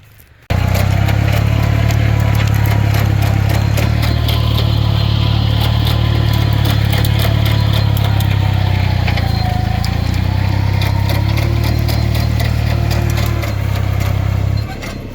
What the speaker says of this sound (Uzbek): Traktor ham svej ko'chirib berilyapti.